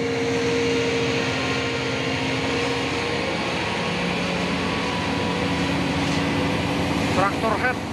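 Loud, continuous engine drone from a Hino Super Great tractor head truck climbing a hill, close by, with a brief horn-like chirp near the end.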